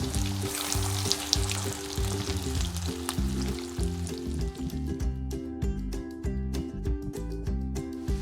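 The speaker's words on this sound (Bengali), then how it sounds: "হালকা আঁচে আমি এটা ভেজে নিচ্ছি, উল্টিয়ে দিচ্ছি" Potato and egg shami kababs fry gently in oil on low heat, giving a steady soft sizzle throughout, overlaid by a repeating tonal pattern like background music and scattered small crackles toward the end.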